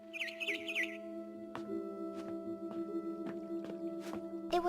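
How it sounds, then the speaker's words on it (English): A barn swallow chirps outside a window in the video game What Remains of Edith Finch, a quick burst of bright twittering calls at the start over a steady musical drone with soft rhythmic ticks. "Then I heard chirping outside my window."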